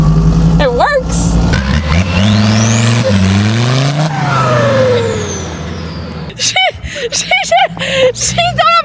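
A Mercedes AMG with a freshly fitted, untested gearbox rips through a loud burnout, its engine revving and rising in pitch as the tyres scream. Excited voices and cheering break in near the end.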